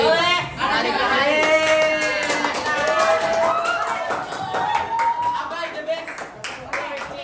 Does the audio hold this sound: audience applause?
yes